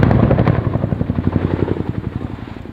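Boeing Chinook twin-rotor helicopter flying a display at the Royal International Air Tattoo 2011, a loud, deep rotor thump that beats rapidly and evenly and grows steadier as it passes near.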